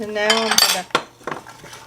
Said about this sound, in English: gonna mix this up, and I'm gonna cook this until the onions and carrots are soft